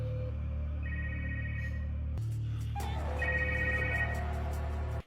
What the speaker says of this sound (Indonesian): ponsel milik salah satu anggota dewan pun berbunyi saat Jilong menghubungi nomor tersebut